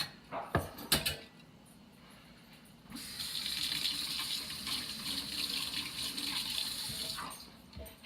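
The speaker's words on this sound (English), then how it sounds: "Had to give my whisk a wash." Water runs from a kitchen tap while a whisk is washed, a steady close hiss lasting several seconds, preceded by a few sharp clinks and knocks.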